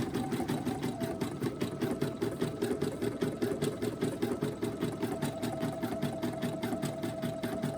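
An NQ1700e embroidery machine sews decorative stitching around a keyfob with a fast, even mechanical needle rhythm and steady motor hum, close and continuous, with no talking.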